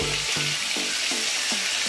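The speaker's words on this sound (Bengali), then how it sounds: "তো সাথে সাথে দিয়ে দিচ্ছি কাঁচা লঙ্কা" Green chillies sizzling in hot oil in a pan with prawns and Malabar spinach, a steady bright crackle throughout with soft periodic stirring scrapes, close and fairly loud.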